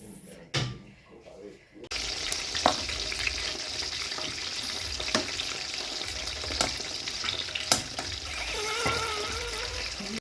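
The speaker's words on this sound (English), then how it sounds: "together with oil so that they heat up together, and put under low heat" Steady sizzling of chapatis heating in oil in a pan over low heat, a continuous hiss with occasional clicks and clatters nearby.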